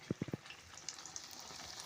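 Brinjal fritters (beguni) deep-fry in a pan of oil, a Bengali telebhaja snack, giving a steady close sizzle with a few soft knocks near the start, no voices.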